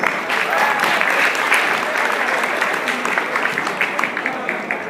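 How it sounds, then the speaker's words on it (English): An audience at a motivational speech applauds in a dense, steady burst of clapping that fills the whole stretch, fading only slightly toward the end, with no voices rising above it. "Can you guys give yourself a round of applause for coming over here?"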